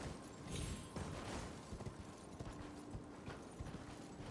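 Hooves clop steadily as a horse is ridden in the video game Elden Ring, a busy rhythmic patter mixed with other game sounds and no talk.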